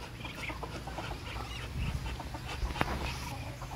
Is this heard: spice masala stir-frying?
no